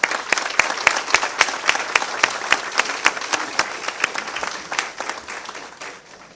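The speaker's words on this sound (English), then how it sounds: "let's give them a round of applause." A board meeting audience applauds students being honored, a dense, steady wash of many hands clapping close by that holds for several seconds and then thins and fades toward the end.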